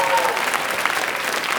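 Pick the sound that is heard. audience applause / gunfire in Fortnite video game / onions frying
audience applause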